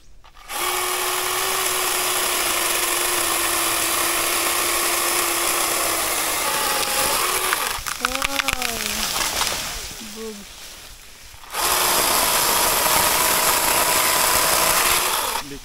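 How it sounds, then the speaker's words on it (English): A chainsaw cutting a tree on a farm in the Philippines runs loud and steady at close range, drops away with voices in the pause, then roars back up again. "it's good we have the chainsaw"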